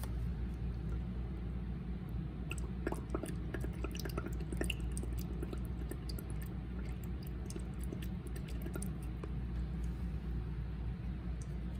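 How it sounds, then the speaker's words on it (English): Soft bubbling and gurgling as air is blown into filtered water, a run of small irregular pops over a low, steady rumble. "I'm going to blow into the water and see if the results change at all."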